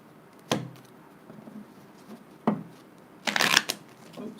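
A deck of tarot cards shuffled by hand, two soft taps followed by a longer riffling burst, close and quiet.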